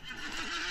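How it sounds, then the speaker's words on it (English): A horse in the video game Lord of the Rings Online lets out a single rising, wavering whinny, clear but moderately quiet against a steady ambient background. "So let's just get back on our horses."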